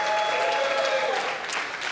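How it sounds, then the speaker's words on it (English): Audience applause at a poetry event thanking its sponsors, a full, steady round of clapping from a crowd filling the whole clip, loud and close with a faint tone underneath. "Please give them a round of applause."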